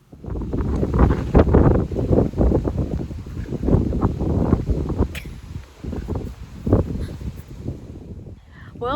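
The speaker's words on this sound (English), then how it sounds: "the wind's pretty bad, so let me see if I can get this done before it blows me away" Strong wind buffeting a microphone outdoors, a loud rumbling roar in uneven gusts that carries on without pause for the whole stretch.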